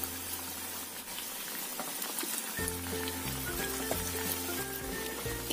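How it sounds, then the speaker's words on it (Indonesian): Fermented cassava tape frying in hot oil until golden, giving a steady, close bubbling sizzle that runs throughout, with background music entering midway. "Setelah kira-kira panas, kita goreng sampai kuning keemasan atau sampai matang."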